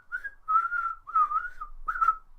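A person whistles a short wavering tune in four sliding phrases, imitating the creak of a door swinging on its hinge, clear and close with no other sound.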